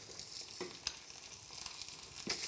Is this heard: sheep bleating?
no